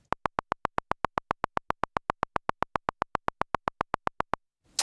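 A running sequence of sixteenth notes programmed in Logic Pro, about thirty identical short tonal blips at a fast, even pulse, loud and clean, stopping abruptly before a brief low thump at the end.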